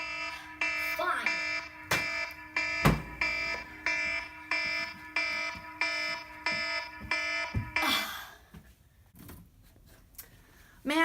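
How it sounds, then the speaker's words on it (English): An alarm system goes off with a harmonic electronic beeping pulse repeating in a steady rhythm about once a second, loud and close, then stopping near the end amid a few clatters. "you're just going to have to listen to that alarm system keep going off."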